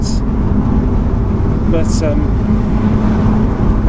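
A Porsche 981 Boxster GTS descends the narrow lower hairpins of the Stelvio Pass, its engine and road noise a steady, continuous drone beneath a voice talking in the cabin.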